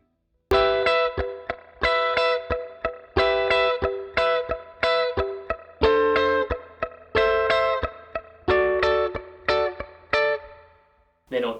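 Guitar chords from a song, strummed in a steady down-up rhythm with muted strings: bright, close, distorted bursts cut off by percussive mutes, moving through several chord shapes for about ten seconds before ringing out.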